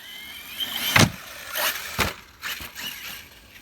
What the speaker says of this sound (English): Let's try doing a little bit of jumping with it.